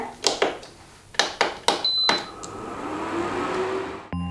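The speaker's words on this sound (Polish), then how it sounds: "Włączamy e, kuchenkę na grzanie." Touch controls on a kitchen stove are pressed several times, each producing a short tap or click, followed by a sustained electronic beep as heating is switched on, then a quiet hum.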